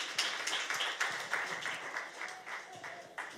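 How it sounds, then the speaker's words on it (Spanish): A church congregation claps in applause to welcome a newcomer, a steady patter of many hands at moderate distance, fairly soft and even, with no clear voices over it. "Loana, un aplauso."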